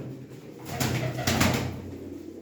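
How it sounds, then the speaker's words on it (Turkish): Soft, low pigeon coos, two rolling calls close by in a quiet setting. "Çok güzel değişik alak kuşlar."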